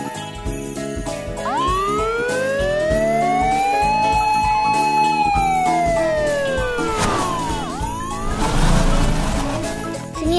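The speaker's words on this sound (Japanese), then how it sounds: "消防車だね。" Fire engine siren from a children's vehicle animation: a loud, wailing tone that sweeps up, holds high and falls again, over a bright, jingly musical backing, with no talking.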